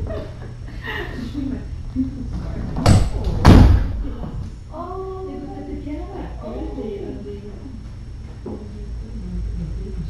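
A door at a home with kittens gives two loud thumps close by, followed by someone talking softly amid quiet room noise.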